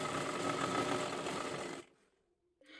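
Sewing machine stitching piping onto a blouse, a steady close whirring run that stops abruptly partway, followed by near silence and a faint click.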